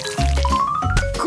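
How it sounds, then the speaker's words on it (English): Fanta-flavoured jelly is poured straight into a mouth, making wet squishing and sloshing sounds with a few gulping pulses, close and fairly loud. "Let's just pour it in my mouth!"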